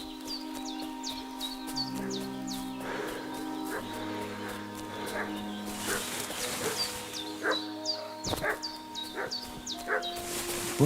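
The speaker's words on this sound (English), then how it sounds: "What's that dog making such a fuss about?" A dog barks repeatedly in the village setting of Kingdom Come: Deliverance 2, a steady run of moderately distant yaps over sustained background music tones, growing more insistent toward the end.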